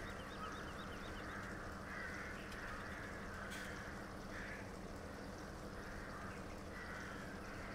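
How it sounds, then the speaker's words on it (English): Birds calling on the Rathlin Island map in Farming Simulator 17, faint repeated caws and cries layered over a constant wash of ambient background noise. "Always a loud area with the birds."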